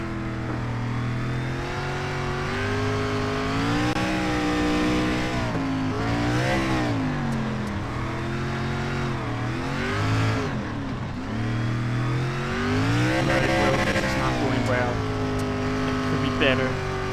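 An SRX race car engine in iRacing revs and accelerates through repeated rising and falling gear pulls, loud and close throughout, while someone talks over it.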